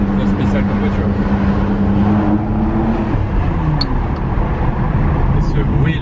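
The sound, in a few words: metallic clunk of Ferrari manual gearbox gear change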